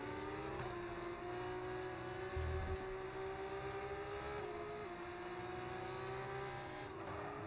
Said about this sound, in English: Great racing in these Formula 2 cars here in Brazil